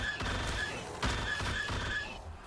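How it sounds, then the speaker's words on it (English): Rapid automatic gunfire from a fast-firing gun in Black Ops 3 Zombies, repeated bursts of sharp shots in quick succession with a couple of louder cracks, close and dominant. "Look at how fast this gun shoots."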